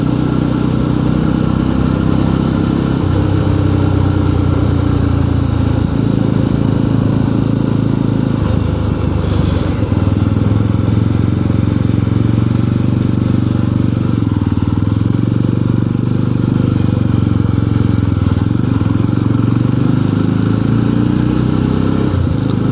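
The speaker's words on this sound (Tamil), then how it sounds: "பைக்கோட சவுண்டும் சூப்பர்ப்பா" Jawa 42 v2.1 motorcycle engine running during a ride, a steady loud mid-pitched drone with wind rush that holds at a constant level, shifting pitch slightly as speed changes.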